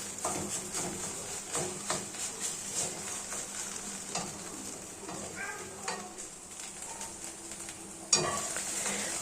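Eggs stir-fried in a pan for fried rice, a steady sizzle under repeated scraping of a spatula against the pan, with a sharper clatter of cookware near the end.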